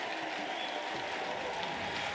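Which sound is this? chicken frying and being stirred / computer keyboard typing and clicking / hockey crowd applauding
hockey crowd applauding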